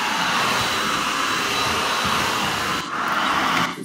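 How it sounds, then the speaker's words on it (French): Home vacuum cleaner running in a house, a loud, steady, close whooshing roar with a slight dip in intensity near the end, heard alone without talk. "je vous ai enregistré mon aspirateur"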